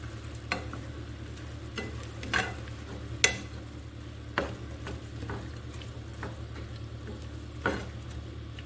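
Meat sizzles and fries in a pan with peppers and onions for Ethiopian kebab, a steady low crackle broken by scattered sharper pops and stirring clicks, close and fairly quiet with no talking.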